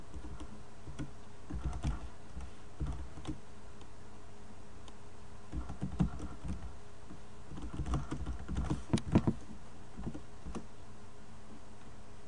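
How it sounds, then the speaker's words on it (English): Computer keyboard typing in a quiet room, with irregular clusters of soft keystroke clicks that come in short bursts and pauses, fairly close and steady, with no talking. "I'm not able to type for some reason."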